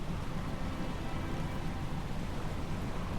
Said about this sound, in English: Getting some pretty good fog and some more wind and rain happening now.